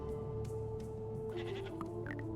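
Goats bleat in the tower defense video game Gnomes, several short bleats in the latter part, faint over a steady droning game soundtrack, with no talking.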